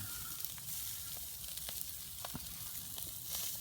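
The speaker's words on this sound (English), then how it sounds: "I like the extra thick stuff because when it sticks to the grill, it doesn't rip." Thick-sliced Tesco bacon sizzles on a grill at a camp, a continuous, fairly quiet fizzing hiss with scattered pops and crackles and no talk.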